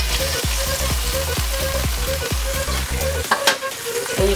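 Beef sizzles steadily in a hot pan for ramen noodle soup, with a continuous crackling fry and a regular rhythm of scraping stirs, close and loud with no talk.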